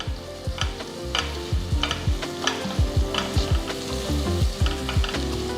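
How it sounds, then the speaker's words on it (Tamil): Onions sauté in a pan with a loud, steady sizzle while a spatula stirs in quick repeated strokes, close up and without any voices. "ஃபர்ஸ்ட் நம்ம வெங்காயத்தை வதக்கணும்."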